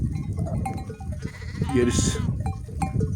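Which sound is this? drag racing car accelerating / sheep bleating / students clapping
sheep bleating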